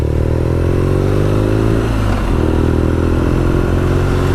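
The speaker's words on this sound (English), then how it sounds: "You do still get a bit, actually, of a click, as we just heard" BMW R nineT Scrambler 2020 motorcycle, shaft driven, riding with a loud steady engine drone; revs dip and rise around a gear change, with a brief mechanical click in the middle.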